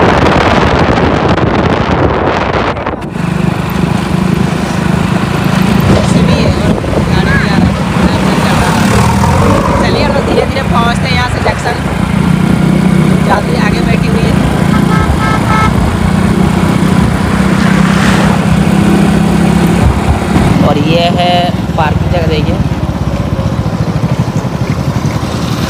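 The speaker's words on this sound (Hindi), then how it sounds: "हम लोग बाइक में जा रहे हैं स्टेशन" A motorcycle carrying riders to a station hums steadily, with its engine drone and heavy wind rush running throughout and voices talking over the ride.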